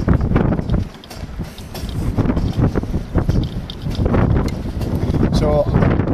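Gusty, turbulent wind around a vertical axis wind turbine outdoors, a loud continuous rumble buffeting the microphone, with someone talking over it throughout.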